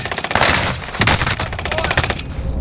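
Rapid automatic gunfire in Call of Duty Warzone, a close, loud machine-gun rattle of fast regular shots lasting a couple of seconds with only brief breaks.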